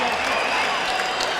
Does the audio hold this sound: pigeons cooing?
no